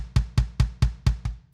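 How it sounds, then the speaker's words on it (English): Six quick, evenly spaced bass drum hits from a modified preset on an electronic drum kit, close and punchy with a short decay, played alone. "so I switched to a modified preset that I put a bass drum sound"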